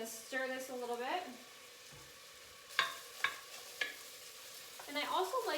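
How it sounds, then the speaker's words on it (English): Vegetables sweat in a pan for millet pilaf with a low, steady sizzle. Three distinct scraping stir strokes cut through it, and faint tonal sounds rise at the start and end. "I'm going to stir this a little bit."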